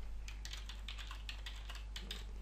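Rapid, uneven key clicks from typing on a computer keyboard while entering text into a web form, close and fairly quiet over a steady background hum, with no talking.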